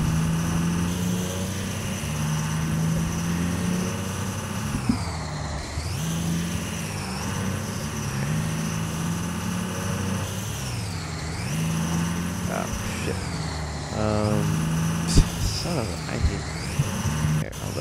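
A lifted Ford F450 Powerstroke Dually truck in Farming Simulator 2015 runs with a steady diesel drone, rising and falling in revs several times, with a short sharp burst near the end and talk mixed in.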